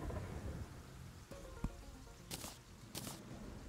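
Thunderstorm in the video game Terraria: steady rain hiss with a couple of sharp thunder cracks and bright bursts of crashing noise, heard alone without talk.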